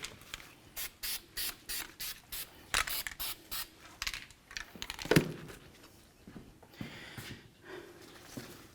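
Copper anti-seize is sprayed from an aerosol onto axle splines in a series of short, evenly spaced hissing bursts close by. A few clicks and clinks of handling follow, and a fainter spray trails off at the end.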